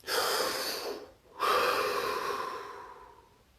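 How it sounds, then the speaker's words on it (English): Deep breathing during a meditation session: a long, airy breath fades into a short pause, then a second strong breath trails off slowly. The breaths are close and clear, with no talking. "Deep breath."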